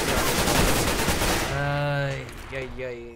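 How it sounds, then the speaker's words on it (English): A fragmentation grenade blows up in a Counter-Strike match at IEM Katowice, The Mongolz against Natus Vincere: a loud burst of broadband blast noise for the first second and a half, then fading into a tonal ringing tail. "eating a large chunk of that fragmentation grenade just tossed at him"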